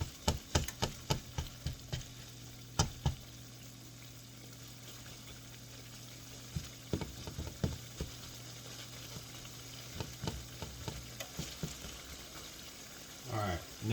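Ground beef browning and simmering in its own juices in a pan, a steady soft sizzle broken by scattered pops and scraping clicks from stirring, with a faint low hum running underneath.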